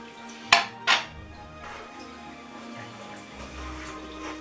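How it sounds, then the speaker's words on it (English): Oats are stirred into flapjack mixture in a pan, opening with two sharp metallic knocks followed by softer scraping and sliding stirs up close. "And keep stirring until all of the dry oats become wet."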